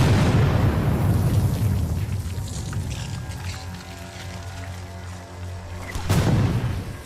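A heavy, booming blast from a rifled artillery shell at a Civil War battle, starting loud and rolling away into a long fading rumble, with a second sharp burst near the end.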